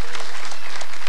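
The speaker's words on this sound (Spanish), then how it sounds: "A Eduardo, le entregamos este diploma y el aplauso." Loud, dense audience applause at a tropical music festival, continuous clapping throughout the brief moment with no talk over it.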